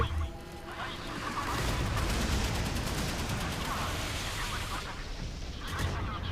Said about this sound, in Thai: ปืนนี่ก็ยิงเก่งเหลือเกิน